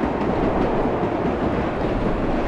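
A subway train from World of Subways Vol. 4 runs at speed, giving a steady, loud rumbling roar with a faint rhythmic rattle of the wheels, and no voices.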